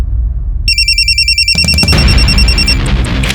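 A telephone rings in a tense police office, its electronic trill starting partway in and repeating steadily, loud and close, with a thud and louder noise taking over near the end.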